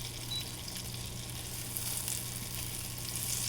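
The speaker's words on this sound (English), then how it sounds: "we're going to start by melting the butter" Steady, close sizzling and crackling of butter melting in a hot pan, continuous and even throughout with no voices.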